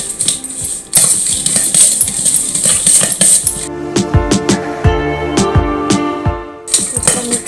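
Tomato, green chilli, coriander and spice powders stirred together in a bowl for churumuri, a steady run of close metallic clinks and scrapes of a spoon against the bowl.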